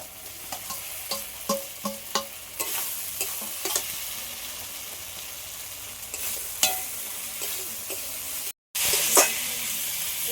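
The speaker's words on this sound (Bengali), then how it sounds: "কাঁকরোল ভাজাটা দিয়ে দেব" Fried teasel gourd is stirred in a pan, giving a low steady sizzle broken by a regular series of sharp spatula clicks and scrapes, close up and without talking.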